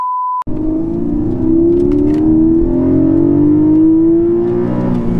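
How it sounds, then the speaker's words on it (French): A Porsche 718 Cayman GTS with its 4-litre naturally aspirated flat-six on a karting circuit: after a brief tone, the engine roars in close and loud, pitch climbing steadily through a long sustained pull before tailing off. "Dans un 718 Cayman GTS, mais alors celui-ci c'est pas le 4 cylindres, c'est le 6 cylindres 4 litres atmosphérique"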